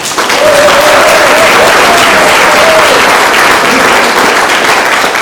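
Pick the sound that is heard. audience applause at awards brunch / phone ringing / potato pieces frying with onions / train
audience applause at awards brunch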